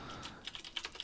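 Quiet, close clicking of computer keys while code is being written, a quick irregular patter of light taps that sharpens into a few distinct strokes near the end, with no voices present.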